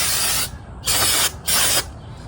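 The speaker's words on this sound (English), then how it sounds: "spray to clean the brakes." Brake cleaner sprayed onto the brakes of a 2021 Honda Ridgeline pickup: three loud, sharp hissing bursts separated by short pauses, close to the microphone.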